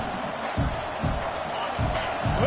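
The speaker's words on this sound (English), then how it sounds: "Listen to this crowd just shaking the girders of this place, trying to help their defense." Stadium crowd at a Missouri State vs LSU football game roars steadily and loudly, with heavy thumping surges rising through the din.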